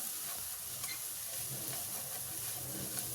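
Chopped tomato, potato, carrot and green peas fry in oil for veg pulao, giving a soft, even sizzle with occasional light stirring scrapes, close and steady throughout.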